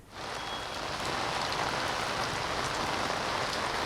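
Heavy monsoon rain pours down on Ahmedabad city streets, a dense, steady hiss of rainfall that holds at an even level throughout, with no voices.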